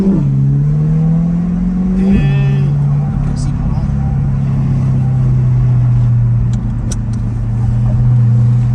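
Corvette C8 with a newly fitted exhaust idles and revs loudly from close by, its steady engine drone swelling through a brief rev before settling back; people talk over the engine throughout.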